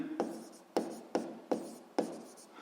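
Handwriting a physics conservation law: five regular, crisp pen strokes tapping and scratching on paper at an even pace, close and soft, with no speech.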